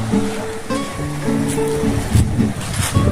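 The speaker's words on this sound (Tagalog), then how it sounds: "Malakas ang alon." Strong sea waves at a fishermen's harbour where boats are moored, a rough continuous wash of surf with surges breaking in, heard close over low wind and a faint motor hum.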